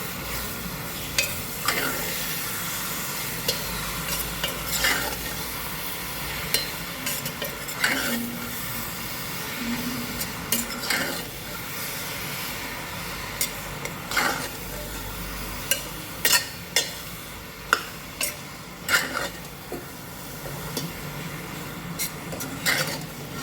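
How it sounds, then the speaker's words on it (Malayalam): Beef pieces frying in a pan for a beef and Chinese potato curry, a steady close sizzle running throughout while a utensil stirs and scrapes in frequent sharp clicks. "ഇറച്ചി ഇടാം ഇനി ഇളക്കി കൊടുക്കാം"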